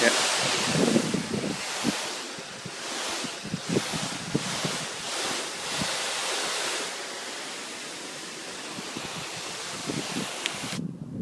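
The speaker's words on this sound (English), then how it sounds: "First up, the garden hose. Also known as the flat nozzle." Garden hose spraying through a flat nozzle, a broad hissing rush that swells and surges unevenly, close and steady, then cuts off abruptly at the end.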